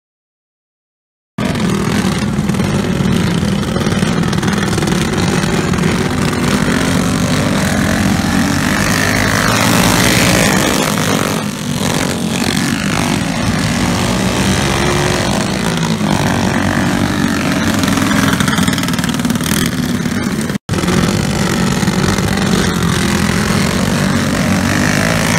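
Dirt go-karts roar through a heat race at Hartsmill Highbanks in Trezevant, Tennessee, a loud, continuous engine drone that swells and fades as the karts pass, with a brief cut near the end and no talk.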